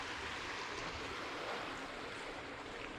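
Water rushing at the Mississippi River headwaters in Itasca State Park, Minnesota, a steady broadband wash that runs without pause, close and fairly quiet.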